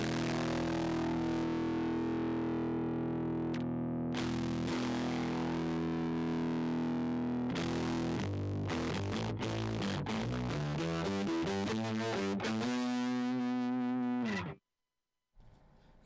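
Heavily distorted electric guitar with a crazy, over-the-top fuzz tone rings out in sustained chords, then picks faster runs of notes before stopping abruptly, loud and unaccompanied by speech.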